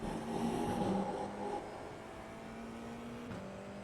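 An F4 race car engine in the iRacing game at Summit Point, a steady buzzing whine that drops in pitch as it downshifts to second gear, then holds a lower drone with another shift near the end.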